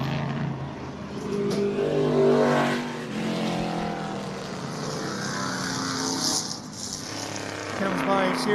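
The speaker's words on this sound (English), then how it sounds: "Listen into the truck now." Vintage race truck with a beefed-up engine, bigger valves and camshaft, roaring past at speed at the American Speed Festival, a loud engine drone that swells and fades, with a commentator talking over it.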